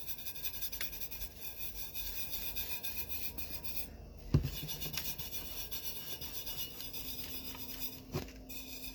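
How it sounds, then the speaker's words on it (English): Tack It coating being rubbed by hand onto a tumbler, a quiet steady scratchy rubbing with a couple of sharper knocks and squeaks, no voices. "I'm going to rub that on in, and then I'm going to put a little bit more Tack It over it"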